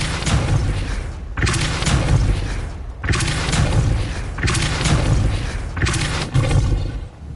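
Depulso spell blasts in the Hogwarts Legacy video game: a series of heavy, booming bursts, about five of them in close succession, each loud and roaring with a deep thud.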